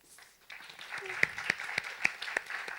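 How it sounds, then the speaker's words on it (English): Light, scattered applause from a small group, a handful of distinct claps rising out of a quiet room. "So one huge round of applause for Shaylin,"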